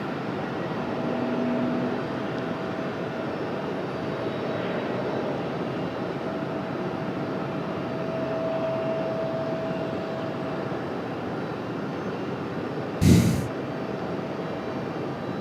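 A Sun Country jet arriving at RDU from Minneapolis makes a continuous moderate engine roar with a faint steady whine, broken by one sharp loud thump near the end.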